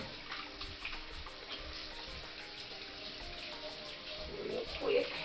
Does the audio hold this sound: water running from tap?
yes